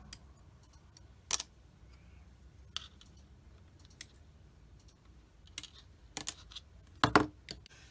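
Plastic stabilizer parts from a Tamiya 1/48 F-51D Mustang model kit being cut from the sprue: sparse, sharp snips and clicks spaced seconds apart, close and quiet over a hushed room, with a quick cluster of cuts near the end.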